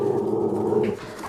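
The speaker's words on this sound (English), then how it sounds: "And that's my dog growling." A dog growls close by, a low rumbling snarl held for about a second before it eases off and fades.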